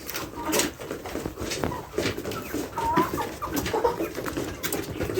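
Broiler chickens fed a rich growth feed cluck steadily and close by, a busy flock chorus of overlapping clucks and short calls over a farm pen background, with no talk.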